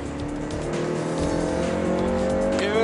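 A Honda Civic Type R driven hard on a race track in fourth gear at about 140 km/h, its engine droning loud and close with a steadily rising pitch from inside the cabin.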